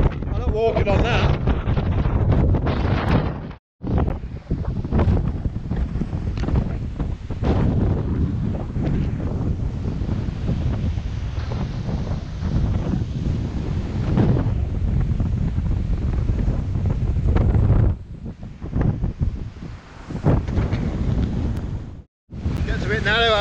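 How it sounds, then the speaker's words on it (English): Strong wind buffets the microphone in a steady, loud roar at Pittenweem Harbour in Fife, Scotland, with surf washing faintly beneath and a person talking over it. "Windy."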